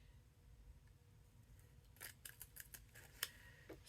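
Scissors snipping the edges of card stock while making a farmhouse Christmas card: several quick, faint cuts in a loose cluster over low room hum, with no talking.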